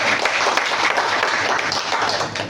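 A church congregation claps together in a brief, dense burst of applause that stays loud and even from start to finish.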